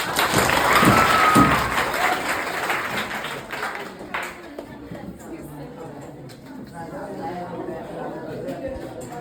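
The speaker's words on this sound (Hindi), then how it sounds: "तालियां हो जाए एक बार" Applause rises from a school audience at an event at an upgraded middle school in Chainpur, loud at first and then fading into crowd chatter and talking.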